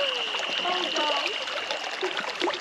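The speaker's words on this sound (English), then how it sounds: "It's easier just to go through the river." River water flows and splashes near a hidden waterfall in Springbrook's Currumbin Cascades, a close, steady trickling rush with a few brief splashes and people talking over it.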